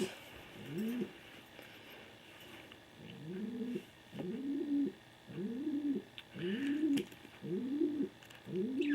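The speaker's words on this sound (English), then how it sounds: "for some reason my birds like to make noise whenever I make videos" Birds coo in a steady, repeating rhythm, about one soft, rolling coo every second, close by with no other sounds.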